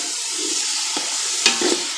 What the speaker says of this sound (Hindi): थोड़ा इसमें पानी और डालेंगे